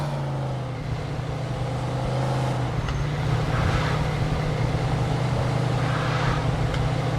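A car drives in the Mafia 2 video game, a steady low engine drone with road rumble that swells slightly as it goes, with no talk over it.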